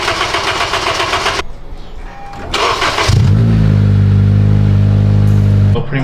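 Turbocharged Honda Civic Si engine after a turbo kit install, cranking with a rapid whirring starter, pausing, cranking again, then catching and settling into a loud, steady idle close to the microphone.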